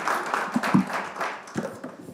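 Audience applause at a National Assembly forum on government innovation and blockchain, a brief patter of clapping across a room lasting about two seconds, fairly soft and diffuse.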